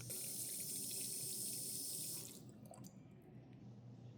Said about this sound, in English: Let's bleed the air out by activating the infrared sensor and check all of our water connections